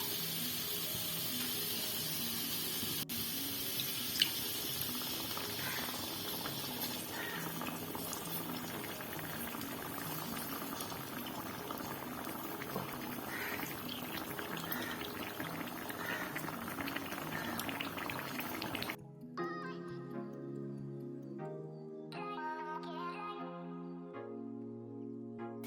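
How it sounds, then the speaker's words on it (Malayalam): Coconut oil simmers with neem leaves in a pan, giving a close, steady bubbling sizzle for about nineteen seconds before the sound gives way to music. "എണ്ണ നല്ല മൂത്ത് വന്നിട്ടുണ്ട്."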